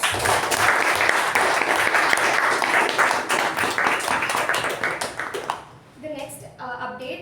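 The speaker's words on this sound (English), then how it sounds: "let us give him a huge round of applause" A Toastmasters meeting audience gives a member a big round of applause, dense sustained clapping that lasts several seconds before fading out, with a few voices heard at the end.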